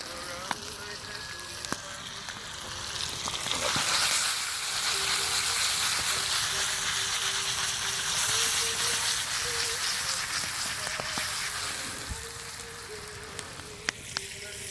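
Steady crackling sizzle of bacon frying in a pan outdoors, close and continuous, with occasional clinks and light scraping.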